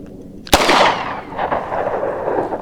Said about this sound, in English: So I'm just going to shoot it right now, a couple rounds,